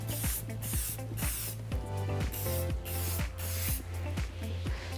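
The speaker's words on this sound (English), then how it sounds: "And fix in place with spray." Repeated short bursts of hairspray hissing from an aerosol can, close and loud, several quick sprays in an uneven rhythm.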